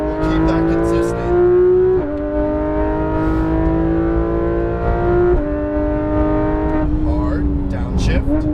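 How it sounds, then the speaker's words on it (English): A Porsche 911 GT3 RS of the 991 generation accelerates hard on a race track, its high-revving engine climbing through several gears with clear upshift breaks, loud and close, while an instructor's voice talks over it. "Go ahead and squeeze back on throttle, nice and wide."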